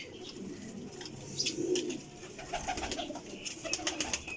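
French pigeons coo in soft, repeated low murmurs at close range, with a few light chirps and a steady hum of movement and rustling around them.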